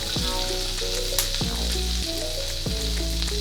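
Butter sizzles loudly in a hot pan with a bright, constant frying hiss, as a utensil stirs it in a few quick sweeps that bring low scraping bumps roughly every second, close and without talk.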